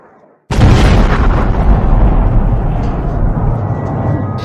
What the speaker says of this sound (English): Huge explosions woke everyone in Kiev as the Russian mission continues.